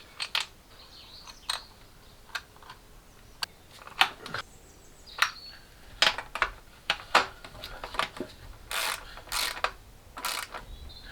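A ratchet wrench tightens the intake manifold bolts on a BMW E46 330i, quick bursts of sharp clicking at irregular intervals, close and alone in a quiet space.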